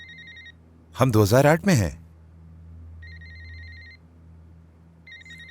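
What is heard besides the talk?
telephone ringing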